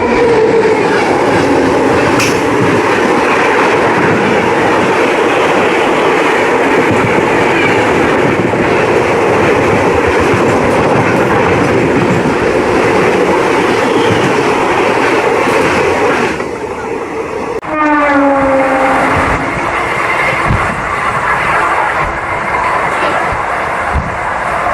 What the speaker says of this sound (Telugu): Thiruvananthapuram central MGR Chennai central express.